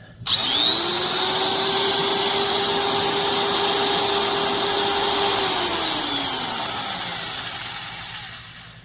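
A Hitachi CN16 16-gauge metal nibbler with a steel motor fan, freshly fitted with new brushes, spins up with a sharp start, holds a loud steady whine, then winds down near the end.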